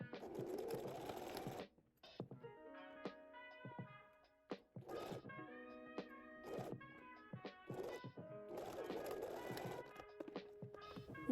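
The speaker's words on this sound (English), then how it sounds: "We're going to sew around this hole using about a 2 centimeter seam allowance." A home sewing machine stitches through layered fabric in several bursts of rapid mechanical whirring, stopping and restarting with quiet pauses, close and fairly soft.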